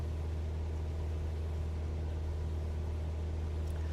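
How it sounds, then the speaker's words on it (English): An aircraft engine in Flight Simulator gives a steady, continuous low drone at constant revs, with no talk over it. "Just turn the engine revs down a little bit."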